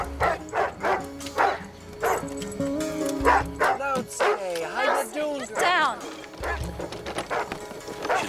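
A dog barks in short bursts, close and clear, with a clopping rhythm beneath while people talk over much of it.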